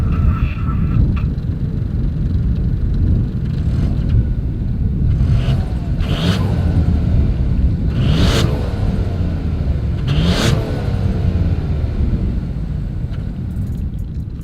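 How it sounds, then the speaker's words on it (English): Dual exhaust of a 2022 Ford Bronco Sport, a steady low idle rumble heard up close, with several short revs rising above it. "As always, here is that exhaust clip."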